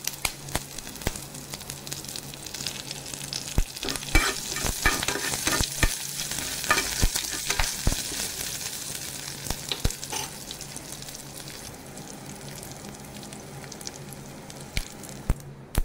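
Dals, dried chilli and curry leaves fry in hot oil for a tempering, a close, steady sizzle and crackle with stirring scrapes running throughout, no voices.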